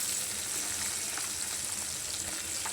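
Onion, garlic and green chili hit hot oil in a pan used for frying fish, giving a loud, steady, unbroken sizzle with no talking.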